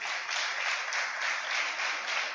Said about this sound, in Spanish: Dele un aplauso a la presencia de Dios.